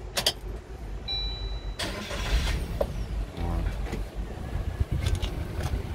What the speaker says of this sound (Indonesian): Kita coba nyalain mesinnya ya.